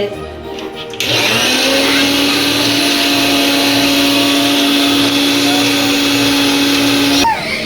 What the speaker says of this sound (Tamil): ஸோ 3 இல்லை 4 வாட்டி தாராளமாக மிக்ஸி அடிக்கலாம்.